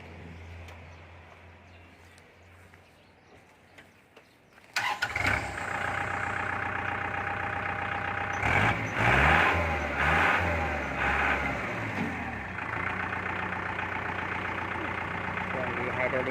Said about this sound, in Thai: เดี๋ยวลองฟังเสียงเครื่องยนต์ดูนะครับ